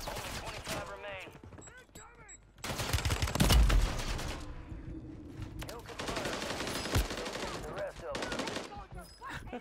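Gunfire in Call of Duty Warzone, bursts of rapid automatic shots, loud and close, with a few pauses, mixed with other game sounds.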